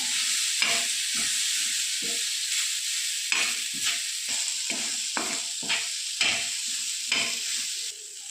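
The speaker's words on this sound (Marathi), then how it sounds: "लसूण आणि दोन चमचे तीळ आता हे सगळं परतून घेऊया" Garlic, grated coconut and sesame seeds sautéing in a pan for a methi kofta gravy, a steady crackling sizzle broken by repeated scraping stirs of a spoon, close and fairly loud with no talking.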